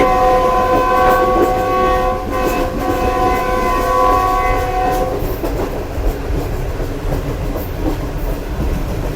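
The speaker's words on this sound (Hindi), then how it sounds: "GU20 का हॉर्न तो बात ही नहीं करने दे रहा।" A loud, sustained diesel locomotive horn on Pakistan's Greenline train blares for several seconds over heavy rumbling and rattling of the moving train, then cuts off as the clatter continues.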